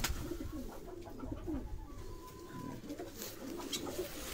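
Pigeons of mixed breeds sit outside and coo in low, repeated murmurs close by, with faint background noise and no talking.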